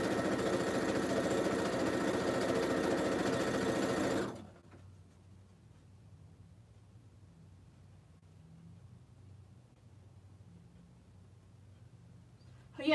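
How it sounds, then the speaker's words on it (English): A sewing machine stitches a quilt block seam right on the marked line, a steady, close mechanical whir for about four seconds before cutting off to near silence. "we're stitching right on the line, so we don't need any quarter inch seam allowance"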